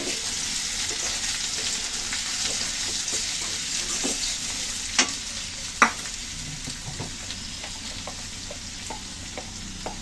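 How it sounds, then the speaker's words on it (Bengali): Onion sizzles in hot oil in a pan, a steady close hiss with occasional clicks and stirring taps, and no talking. "এখন এই তেলের ভিতরে আমি পেঁয়াজ দিয়ে দিচ্ছি"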